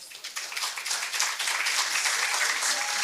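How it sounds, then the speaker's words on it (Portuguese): Audience applause at a corporate startup summit talk session, a dense steady patter of many hands clapping that rises and holds throughout, fairly loud in a hall. "uma salva de palmas da Viva Açúcar."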